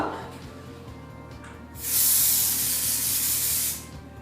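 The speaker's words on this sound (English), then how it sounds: "Now we're going to finish off with some hairspray." A single sustained spray of hairspray from an aerosol can onto hair, a bright hiss lasting about two seconds, close up over a low background hum.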